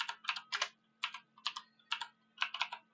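Brisk bursts of typing on a computer keyboard, clustered keystrokes in short rhythmic runs separated by brief pauses, close and fairly quiet, with a faint steady hum beneath.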